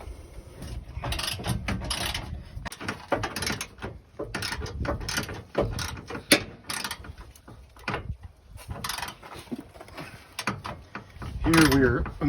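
Ratchet with a deep well socket loosening the bolts on a diesel tank's strap, with irregular clicking and metallic clanks close by, plus scraping and handling noises and a brief voice.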